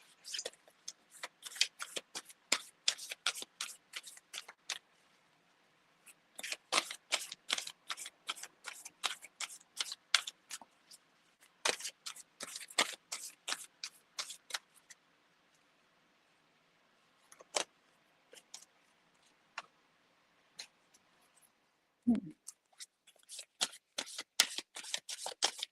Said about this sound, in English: I'm gonna move myself so I can shuffle.